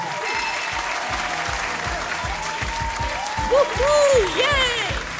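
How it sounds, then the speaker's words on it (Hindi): A studio audience cheers a quiz show winner with continuous applause under a rhythmic music beat, with a brief swell of louder sound near the end. "एक दफा फिर जोरदार तालियां हमारे आज के विनर के लिए"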